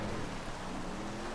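Rain during a GTA Online race makes a brief, steady hiss of falling water, a dense wash of droplets with no speech over it.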